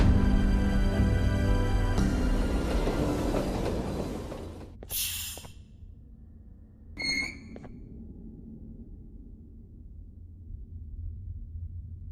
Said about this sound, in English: This train should take us straight to the surgeon's office.